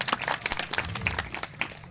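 An audience claps at a Gondwana movement rally: scattered, uneven applause of sharp individual claps, fairly faint and thin, with no talk over it.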